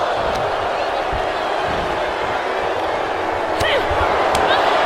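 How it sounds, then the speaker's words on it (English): Arena crowd noise from the WWE 2K22 wrestling video game during a SmackDown match in Canada, a steady continuous roar with a few sharp impact slams and commentary talk over it. "the crowd here in Canada does not love it"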